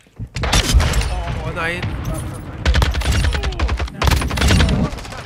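Rapid bursts of automatic gunfire in the video game Modern Warfare 2, loud close volleys in several clusters with booming thuds, while a man exclaims over the shooting.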